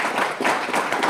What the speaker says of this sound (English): A little applause for Senator Gramm.